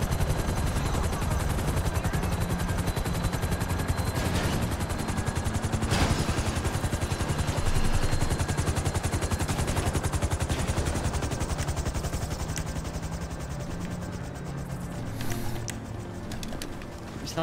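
In GTA V Online, helicopters circle overhead during a casino heist mission with bursts of rapid gunfire, a dense continuous rotor drone layered with repeated machine-gun rattles and sharp shots throughout.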